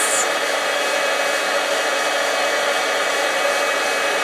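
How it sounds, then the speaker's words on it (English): An embossing heat tool blows a steady, loud hot-air roar while melting embossing powder for a wax seal, continuous and unbroken with no voices. "you quickly turn off your embossing heat tool"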